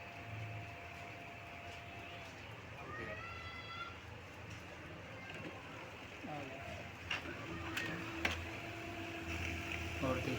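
A repaired printer with a new relay gear feeds and prints a page, with whirring motor passes, a rising mechanical buzz and clicks, moderately loud behind someone speaking.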